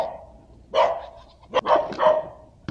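A dog barks in a few sharp bursts, loud and close, with a pause between the first bark and a quicker cluster of barks.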